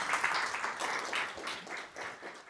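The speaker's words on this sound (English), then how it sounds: "let's just have another round of applause for all of our speakers this morning" An audience at a digital literacy presentation day gives a round of applause for the speakers, a moderate, fairly faint patter of clapping hands that rises and dips in small swells over a couple of seconds.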